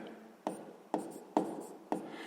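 A pen writes out a math solution on paper, four short scratchy strokes spaced evenly apart, quiet and close.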